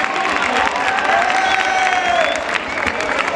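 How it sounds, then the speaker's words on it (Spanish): A crowd at a freestyle rap battle championship in Aragón claps and cheers loudly in a dense, steady wash of applause. "quiero pedir un fuerte aplauso para Samuel."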